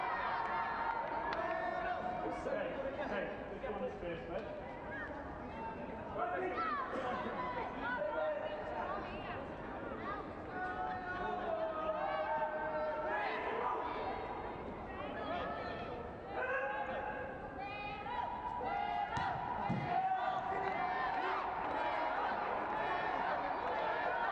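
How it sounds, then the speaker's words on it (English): Football fans celebrating in the stands at an under-15 schools' cup final, a steady crowd roar of cheering and overlapping chatter that carries on throughout without a break. "A few Wirral fans celebrating in the crowd already."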